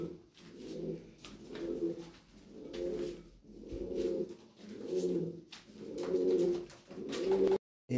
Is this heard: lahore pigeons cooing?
yes